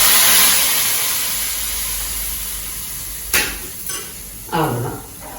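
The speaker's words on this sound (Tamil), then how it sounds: "இப்போ இதில் வந்து கருவேப்பிலையை இந்த கூட்டில் மேலோட போட்டு வச்சுட்டு அது மேலே ஊற்றிடுவேன்" Hot oil tempering with curry leaves is poured over bean kootu. A loud hiss at the start fades to a soft sizzle, followed by a few sharp bursts of crackling.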